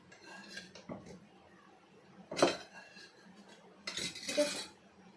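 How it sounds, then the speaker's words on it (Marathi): Cooked urad dal is mashed against the side of a pot with a utensil, giving a few soft scraping and clinking strokes with quiet pauses between them. "डाळ झालेली आपली तिला जरा ना असं थोडंसं फेटून घ्यायचं आहे"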